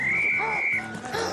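A steady, shrill whistle blast is held for almost a second as the signal in a Big Brother house challenge, with voices and commotion around it and a second, fainter whistle tone following.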